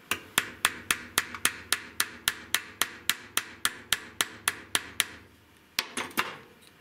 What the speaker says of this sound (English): I'm going to push, just hit that with a hammer